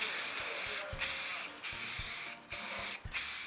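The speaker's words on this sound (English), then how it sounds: "Now what we're gonna do is lacquer all these boards." Lacquer sprays from an aerosol can onto fingerboard deck blanks in steady hissing bursts, with four brief breaks as the nozzle is released and pressed again, accompanied by light clicks.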